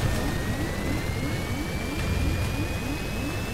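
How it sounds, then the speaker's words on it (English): Constant loud roar of an airplane jet engine in the survival game Stranded Deep, a dense broadband drone with a rising whine and a pulsing low throb, heard alone without talk. "There's the airplane."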